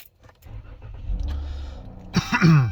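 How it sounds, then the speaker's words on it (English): A car with a P0128 coolant temperature fault cranks and starts after a jingle of keys, the engine catching and settling into a close, steady idle. "I might have to start the car up"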